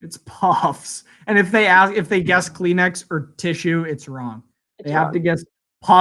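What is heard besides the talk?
No everyday noise stands out behind the speech.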